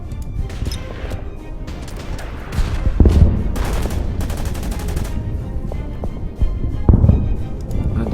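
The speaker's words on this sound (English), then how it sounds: "these guys here are gonna fire at the tank" Gunfire from units shooting at a tank in the WWII strategy game Order of Battle: Pacific, Bataan: a loud, continuous rattle of rapid bursts and heavy impacts with a few sharper cracks, dense and unbroken throughout.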